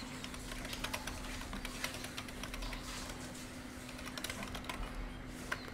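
Steady typing on a computer keyboard, a continuous run of quick, light key clicks at close range with no talking.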